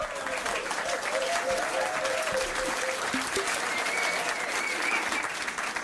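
A pub trivia quiz crowd claps in a loud, steady round of applause, with whoops and scattered voices layered over the continuous dense clapping from start to finish.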